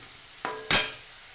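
Vegetables (potato, elephant foot yam and cauliflower) frying in a pan for a rohu fish curry, a quiet sizzle interrupted by two quick loud scrapes of a spatula stirring them.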